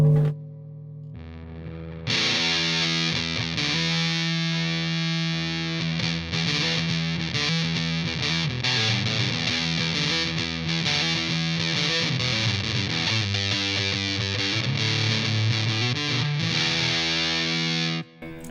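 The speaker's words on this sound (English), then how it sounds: "that is one of the nicest fuzz sounds I've ever heard" A fuzz pedal drives an electric guitar into a thick, saturated tone, with sustained distorted chords and riffs playing steadily and loudly for about eighteen seconds without any talking.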